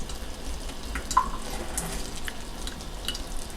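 Lukewarm water sprays at fairly high pressure onto pepper seeds started indoors, a soft continuous hiss with faint drips and spatter, close by and alone.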